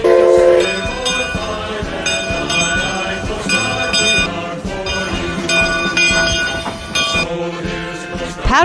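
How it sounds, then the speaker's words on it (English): The Oregon Scenic Railroad's 100-year-old McLeod 25 steam train rolls past near the abandoned 1908 Barview Coast Guard Life-Saving Station, a loud, close, continuous rumble and clatter with bell-like ringing tones running throughout. "the Oregon Scenic Railroad's 100-year-old McLeod 25"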